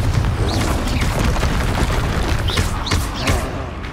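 Confringo blasting-curse explosions in the video game Hogwarts Legacy make dense, loud booming blasts with rumbling low end and whooshing bursts, several in quick succession over continuous game noise.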